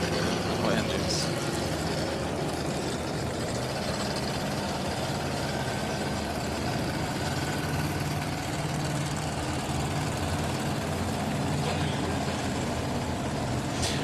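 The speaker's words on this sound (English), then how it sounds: "High RPMs for Silvio Strauss. Both of these cars have exactly the same type of engines." Drag racing cars with identical engines at a European drag racing championship, a dense, continuous engine roar and rumble held steady throughout under crowd noise, loud and sustained without clear breaks.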